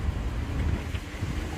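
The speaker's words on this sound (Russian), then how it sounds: "Ветер." Strong wind buffeting a balcony in Yeysk, a steady low rumbling roar with gusty flutter against the microphone, continuous and fairly loud with no voices.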